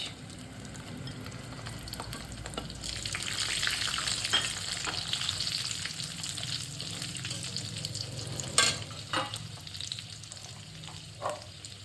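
Cashews and then raisins frying in hot oil for fried rice give a steady, close crackling sizzle that grows fuller partway through, broken by a few sharper pops and clatters near the end, with no talking.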